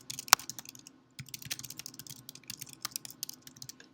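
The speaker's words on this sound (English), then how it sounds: "if I do not hit enter and I begin typing my first body paragraph" Someone types the body paragraph of a formatted paper on a computer keyboard, producing rapid close keystrokes with one sharp hit, a brief pause, then a steady run of clicks and no talk.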